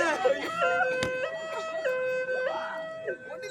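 Ambulance siren sound effect in a Tamil village stage drama, a loud electronic tone stepping between steady pitches in repeated cycles, with brief voice-like sounds mixed in.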